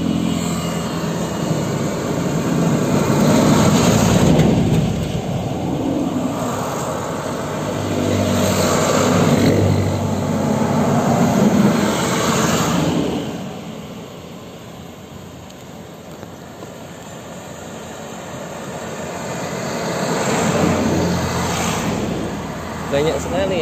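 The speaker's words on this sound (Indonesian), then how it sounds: "Jam segini rame ya, nu mobil tambang lewat." Coal mine staff shuttle cars heading home along a road, several vehicles swelling past one after another with broad rumbling passes around 4, 9, 12 and 21 seconds over steady traffic hum, a voice talking at times.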